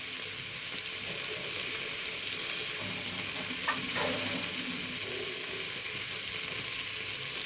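Spice paste loosened with water, salt and sugar is stirred in a frying pan for a Bengali home-cooked meal; a steady, fairly loud sizzling hiss runs throughout with soft scraping movements, no talking.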